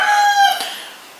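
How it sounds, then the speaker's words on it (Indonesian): A rooster crows once outdoors before dawn, a loud, drawn-out call that trails off into quiet. "Sorry guys, ada suara ayam berkokok."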